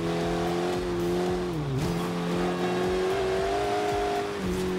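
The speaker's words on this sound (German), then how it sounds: "Nur beim Rausbeschleunigen, da setzt der Turbo ein bisschen böse ein" Turbocharged four-cylinder Alfa Romeo 4C race car in Forza Horizon 2 accelerating hard, a loud continuous engine drone with a brief dip as it shifts, then climbing again under steady load.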